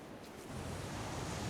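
Atlantic surf breaking along an exposed, windswept coastline, a steady broadband wash of waves with wind noise, close and continuous with no voices.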